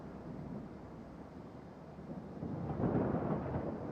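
Thunderstorm in a flight simulator game, a low continuous rumble of distant thunder that swells louder toward the end, with no voices.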